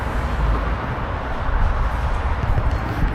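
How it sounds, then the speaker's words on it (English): A train rumbles past some way off in an urban area, a continuous low, broad roar with steady clatter, fairly loud and unbroken, with no talk over it. "Oh, little train going over there."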